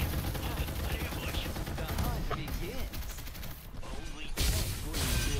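Rapid gunfire from the battle royale game Farlight 84, a dense run of sharp cracking shots that persists throughout, with a heavier burst near the end, while players talk over it.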